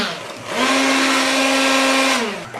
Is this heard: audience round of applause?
no